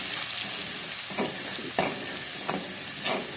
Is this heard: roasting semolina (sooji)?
yes